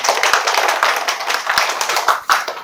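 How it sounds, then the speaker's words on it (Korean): A church congregation at a Yoido Full Gospel Church worship service claps in a dense, lively burst of applause, with some sharper claps standing out close by. "명예의 박수 한번 들어요"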